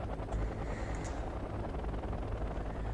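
Massed military helicopters in the real-time strategy game Wargame Red Dragon, a dense, steady rotor rumble and whine filling the clip at a loud, constant level with no pauses.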